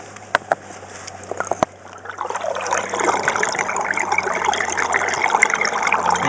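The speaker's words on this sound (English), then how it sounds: "What you can hear is a drain." River water from the River Alyn draining down a sink hole, a steady close trickling and gurgling flow that swells and stays continuous after a few sharp knocks at the start.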